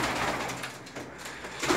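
Racing pigeons in a coop during the late-season moult give off soft, continuous cooing and rustling, close and fairly steady with no talk.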